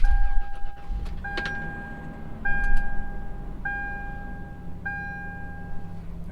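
Third-generation Toyota 4Runner engine starting after an engine detail: a brief crank and catch into a low idle, with repeating electronic warning chimes and small clicks over it, recorded close up.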